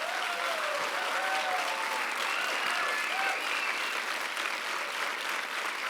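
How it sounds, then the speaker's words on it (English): An audience at the IFFR 2020 film festival awards ceremony applauds in a sustained, even wave of clapping, with a few faint cheers and voices rising within it from start to finish. "Please give a very warm round of applause to the programming team of IFFR."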